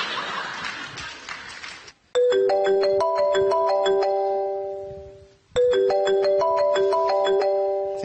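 A mobile phone ringtone plays loud and close, a bright repeating chime melody that sounds in two bursts with a short gap, after a stretch of noisy room sound.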